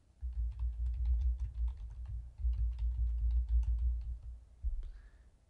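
Fingers type a passphrase on a computer keyboard in two quick bursts of close, soft key taps with muffled thuds, then a brief pause and a final click.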